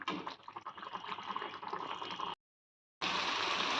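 Food with tamarind simmers in a covered pot on the stove, giving a steady, fairly quiet bubbling hiss that runs continuously and then breaks off for a short silent gap before resuming.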